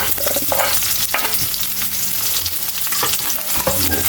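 Chopped onion goes into hot oil over golden-browned garlic in a pan for binagoongan bangus, giving a steady close sizzle with occasional stirring scrapes and clinks, no talk.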